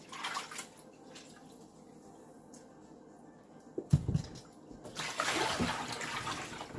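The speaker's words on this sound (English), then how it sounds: "Right now I'm washing them with some lemon." Four turkey wings being washed with a whole lemon and water, with quiet running water and faint drips giving way to splashing and sloshing as the meat is handled, close by with no voices.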